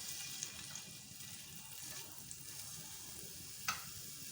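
Potato slices sauté in a pan for a vegetable omelette with a faint, steady sizzle and occasional small clicks of stirring, heard alone with no talking.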